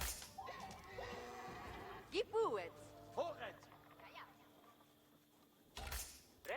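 Sheep bleat in Age of Empires 4 during a Holy Roman Empire build order, several short wavering calls scattered across the scene, fairly faint, amid quiet game ambience and a closing thump.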